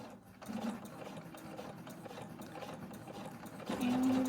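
A sewing machine with a double needle stitches a knit hem in a steady, fast mechanical whir with rhythmic needle ticking, speeding up slightly near the end, close and moderately quiet with no talking.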